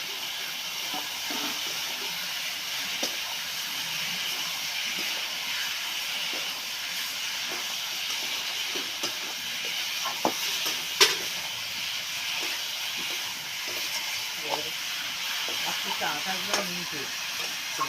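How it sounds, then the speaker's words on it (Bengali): Fried snake gourd pieces tossed into spiced masala in a pan, with a continuous sizzle and hiss and occasional stirring scrapes and knocks that grow sharper midway. "মশলা থেকে তেল ছেড়ে গেছে, এবার আমি ভেজে রাখা"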